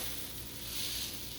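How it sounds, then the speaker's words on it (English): Strawberry pancake batter sizzles in a preheated pan, a continuous close frying hiss with a faint bubbling texture and no other sound. "So I'm looking for the ones that are browning, they're sizzling, they're bubbling"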